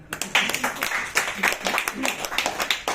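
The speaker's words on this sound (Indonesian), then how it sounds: "tepuk tangan" A seminar audience bursts into applause, with irregular, loud individual claps standing out over a spread of clapping, punctuated by choppy bursts throughout.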